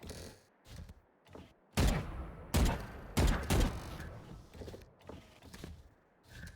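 Killjoy's turret from Valorant firing during a match on the Ascent map, several loud short bursts of shots separated by quieter gaps with mechanical whirring and thumps.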